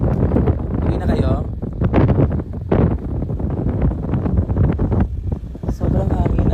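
Strong gusts buffet the microphone in rumbling bursts, while people talk underneath, their voices partly drowned by the wind.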